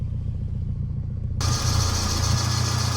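Steady idle of a 1991 SAAB 900 Carlsson Turbo 16 engine under the bonnet, a low pulsing rumble that turns suddenly louder and brighter partway through, as if heard from nearer the running engine.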